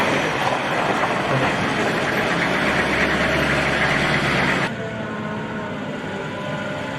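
Engines of American military convoy vehicles idle during Marine combat training in Sweden, a loud, deep, steady rumble that drops slightly in level partway through.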